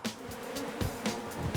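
Swarm of Arizona killer bees buzzing angrily, a dense, close insect drone with several louder passes as individual bees zip near, continuous throughout.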